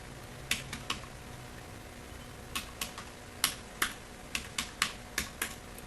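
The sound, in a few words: typing an SQL insert query on a computer keyboard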